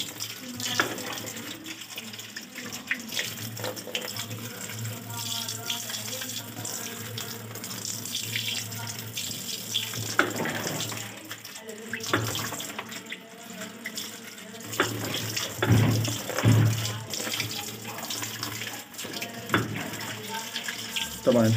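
Tap water runs steadily while a washing machine drum is rinsed, splashing and gurgling as the flow shifts, with occasional clanks and some faint talk underneath.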